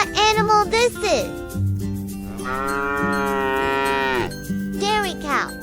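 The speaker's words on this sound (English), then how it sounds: "Dairy cow." A dairy cow gives a long, loud, drawn-out moo amid playful music, with a voice heard before and after.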